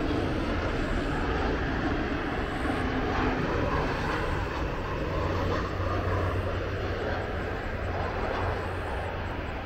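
A steady, loud engine roar of a J-Air jet on the short runway at Osaka International Airport fills the whole stretch, broad and constant with a low hum underneath.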